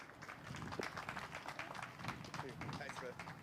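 A room at a boxing press conference breaks into applause and cheering, a dense wash of clapping lasting throughout, with voices mixed in beneath the crowd.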